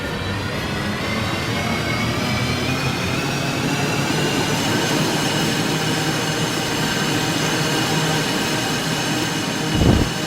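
A loud Eurostar train in a video game roars past continuously with rumbling wheels and a steady high whine, a short thump near the end.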